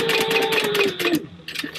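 Sewing machine stitching fabric while sewing a Hugo pattern garment, a rapid close mechanical chatter of needle strokes that stops abruptly, followed by a short burst of softer handling noise.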